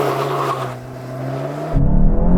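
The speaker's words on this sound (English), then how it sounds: "Let's see how quick this GTI is on the launch" Volkswagen Golf GTI launching hard from a standstill with traction control engaged, the engine droning steadily and then surging louder near the end, heard from inside the cabin.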